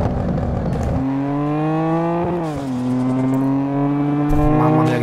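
Car engine in GTA 5 driving and revving steadily, a loud continuous motor tone rising and dipping as it shifts, with someone talking over it.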